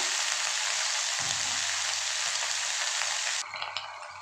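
Cabbage and potato pieces fry in a hot pan with a steady, dense sizzle and crackle, close and continuous, with a brief clatter of stirring near the end.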